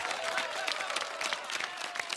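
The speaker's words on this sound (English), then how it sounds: "Give him a round of applause" Studio audience applause on a televised singing competition show, steady dense clapping filling the whole short stretch at moderate loudness with faint crowd noise mixed in.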